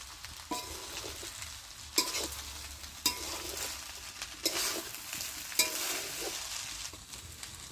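Masala paneer sizzles and fries in a pan with homemade spice mix of mace, nutmeg, cinnamon and cardamom, while a utensil scrapes and stirs it in repeated strokes, close and steady, with no voices.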